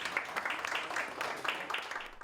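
Members of a social security fund's board of directors clap at a meeting, giving a faint, steady patter of applause from a small group.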